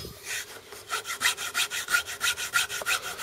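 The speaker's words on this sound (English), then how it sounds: "Just keep it flat with a junior hacksaw." Junior hacksaw cutting a Gardiners CLX water-fed pole clamp in quick, even back-and-forth strokes, close and clear with no talk.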